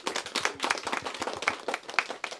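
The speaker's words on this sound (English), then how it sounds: "Can we give them a round of applause, please, guys?" Audience applause at a school assembly: a small group's sharp hand claps, uneven and fairly close, with no one speaking.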